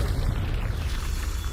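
A Confringo blasting spell goes off in the Hogwarts Legacy video game as a deep, rumbling blast that holds steady and loud for its whole short length, with no pause.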